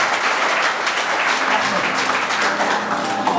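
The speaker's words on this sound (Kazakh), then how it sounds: "Ұстазымызға бір шапалақ қойып қойсаңыз болады." A crowd at a school reunion marking twenty years since graduation applauds a teacher, giving a loud, dense, steady clapping that fills the whole stretch with no talk.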